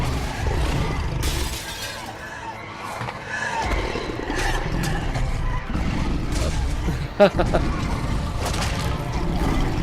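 Mirrors shattering in the video game The Wolf Among Us, a loud glassy crash near seven seconds standing out over busy game music, ambience and rumbling effects.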